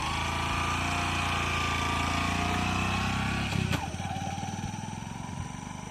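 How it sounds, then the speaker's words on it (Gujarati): A motorcycle engine runs steadily nearby with a low, even rumble, briefly revving and sputtering about midway before settling back into a rougher, pulsing idle. "જબ્બર બાઈક લઈને આવ્યા"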